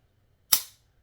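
A CZ 75 P01 pistol's single-action trigger pull gives one sharp, close metallic snap that decays quickly into silence, with nothing else around it.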